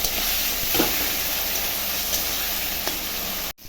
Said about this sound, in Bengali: এখন দিয়ে দেবো মশলাটা, একটু কষিয়ে নেব